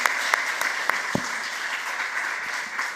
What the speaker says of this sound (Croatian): bravo, spontani aplauz